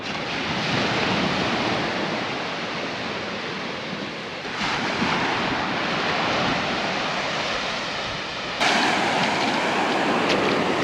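Surf rolls in at Lunan Bay on the Scottish coast, a continuous broad wash of breaking waves mixed with wind, loud and steady, swelling slightly near the end, with no voices.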